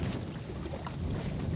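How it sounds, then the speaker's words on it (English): Steady wind gusts buffet the microphone aboard a small fishing boat on open water, a continuous low rumble with a broad hiss above it and no talking. "Starting to get a little bit windy, but it's not too bad."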